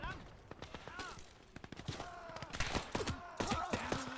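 Colt 45 pistol shots amid scattered gunfire in the Gates of Hell Ostfront PvP battle, sharp cracks and bursts mixed with distant shooting, while someone talks over the action.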